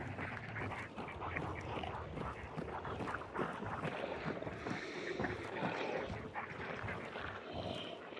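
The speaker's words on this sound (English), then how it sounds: "Watch the ducks too." Ducks quack in the shooter game Hunt: Showdown, scattered calls at moderate distance over a steady bed of wind and watery outdoor ambience.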